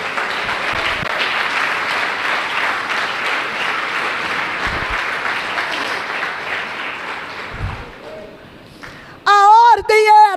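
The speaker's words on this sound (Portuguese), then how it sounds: "Você pode aplaudir ao Senhor?" A church congregation applauds in a sustained, loud wash of clapping that fades out near the end, followed by a brief burst of amplified sound.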